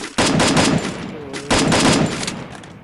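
Two bursts of rapid automatic gunfire from the Free Fire video game, each a loud rattling volley that fades off, separated by about a second of quieter tail.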